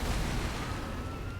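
Firecrackers from the prosthetic tool in the video game Sekiro: Shadows Die Twice, a dense, loud crackling barrage of rapid pops and bangs that fills the whole moment without pause.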